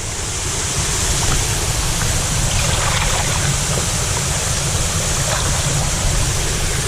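Rushing water from a hidden waterfall and stream on a St. Lucia hiking trail, a steady, dense roar with deep rumble and broad hiss, close and constant throughout with no talking.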